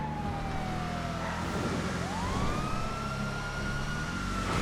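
A stock police car siren from GTA FiveM wails in long, loud rising and falling sweeps over steady traffic and engine noise, continuous throughout.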